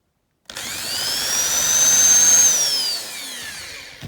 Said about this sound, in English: It's not going to come out by itself, so it's back with a drill